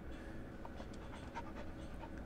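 A border collie pants steadily in the zombie shooter Into the Dead 2, a quiet continuous rapid breathing over a low game ambience, with no talk.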